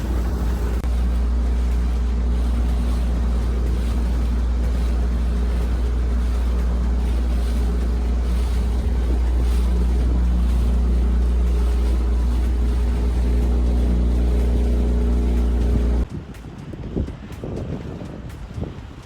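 A small sea racer motorboat engine drones steadily on the water with wind rushing past, then cuts out near the end, leaving choppy water and wind noise.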